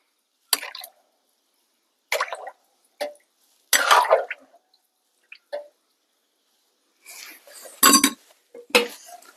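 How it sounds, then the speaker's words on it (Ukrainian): Shurpa and water being stirred in a 7-litre cauldron outdoors: separate wet sloshes, knocks and scrapes of a utensil against the pot, with short silences between them, close by and no speech. "Тепер ще раз перемішуємо."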